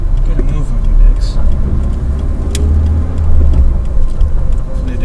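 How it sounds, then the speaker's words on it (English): A Vauxhall Vectra hums along a road in the Netherlands with a loud, steady rumble of engine and tyre noise throughout, close and continuous. "Hopefully this will all give you an idea what driving in the Netherlands is like."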